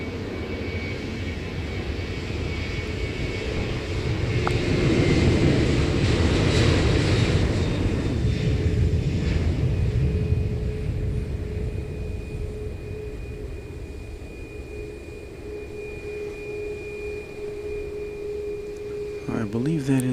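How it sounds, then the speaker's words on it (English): Thai Airways Airbus A350-900 jet departing for Bangkok, a distant engine rumble that swells to a peak and slowly fades, with a steady tone running through it and voices faintly present. "I believe that is a Thai Airways A350-900 going to Bangkok"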